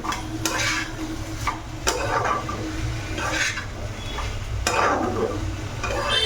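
Ivy gourd (kundri) fries in a pan on a gas stove with a constant sizzle, broken by several sharp scrapes and clatters of a spatula stirring against the pan, close up, with no talking.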